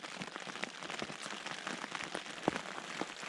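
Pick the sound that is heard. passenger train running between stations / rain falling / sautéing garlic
rain falling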